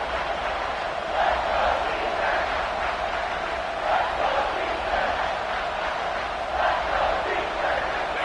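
A roaring stadium crowd at a football game, loud enough to force a false start, with a dense, sustained din that rises and falls in waves.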